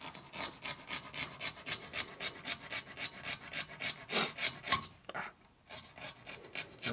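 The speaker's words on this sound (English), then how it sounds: "We're filing." A hand file rasps rhythmically across a part for a 1983 shovelhead motorcycle engine, giving quick even strokes close up that pause briefly near the end before the strokes start again.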